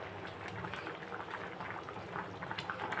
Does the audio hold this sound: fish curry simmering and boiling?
yes